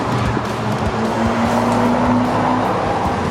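A Corvette Z06 drives hard around the Laguna Seca track with a loud, continuous engine roar and road rumble heard from close by, without speech.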